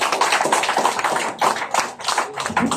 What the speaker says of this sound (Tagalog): Isang palakpak pa po kay Father Gulli Basco.